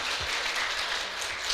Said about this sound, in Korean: 우리 박수로 환영하고요